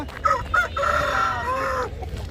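A rooster crows once, loud and close, a long drawn-out call lasting about two seconds over a low background rumble, at a rooster market.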